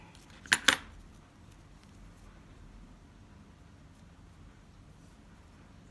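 Scissors snip ribbon for a bow in two quick, sharp metallic cuts close by, followed by quiet room tone.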